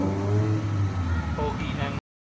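A car engine revs loudly and steadily nearby at a car meet, with a voice speaking over the drone before the sound cuts off abruptly.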